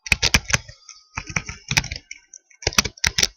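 Bursts of computer keyboard typing as a name is entered into a spreadsheet cell, quick clustered key clicks in three short runs with brief pauses, close and clear with no talking.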